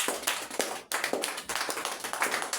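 A church congregation claps together in a steady rhythm, with loud, dense hand claps that dip for a moment before picking up again.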